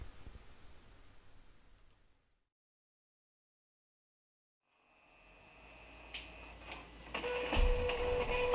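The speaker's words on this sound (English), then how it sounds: "Now let's go over to the printer and watch our print come out." A printer runs a greeting card through on Red River greeting card stock after a brief silence, its motor whirring and building with a series of clicks and mechanical ticks, close and clear with no talk.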